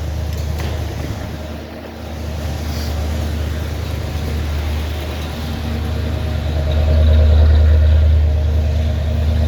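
A warm truck engine idles steadily with a deep low rumble, rising a little louder near the end, heard alone without talk.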